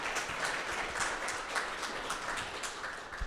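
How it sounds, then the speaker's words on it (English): Audience at a museum curator talk applauding the two speakers, a sustained patter of many hands clapping at moderate loudness, with a faint hint of voices underneath. "Let's give Melissa and Barbara a round of applause."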